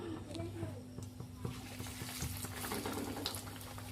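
Breadcrumb-coated cutlets fry in oil with a steady, dense sizzle that holds evenly throughout, with a few soft scattered pops over the continuous crackle.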